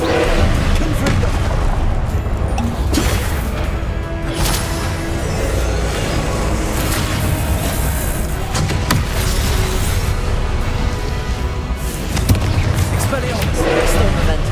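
Blasting spell explosions burst in Hogwarts Legacy combat, repeated booms and crashes scattered over busy game noise, loud and close, alongside a voice talking.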